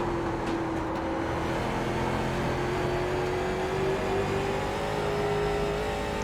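Late model race car engine at Nashville Fairgrounds Speedway oval in iRacing, a steady loud droning roar with a gradually rising tone as it runs around the track, no talking.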